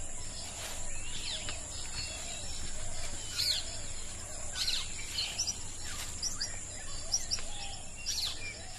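Birdsong from a Sri Lankan cloud forest: repeated sharp chirps and whistled calls ring out over a steady hum of crickets and insects, with several birds calling near and far.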